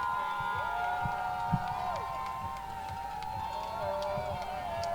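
A crowd cheers and whoops continuously at a freestyle kayaking final on the Ottawa River, with children shouting in the mix and a commentator's voice running underneath the loud, sustained noise.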